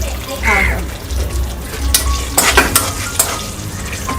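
Green chilies frying in a pan while being stirred, a continuous sizzle broken by sharp scraping and clattering strokes of the spoon, close by, with a brief voice early on.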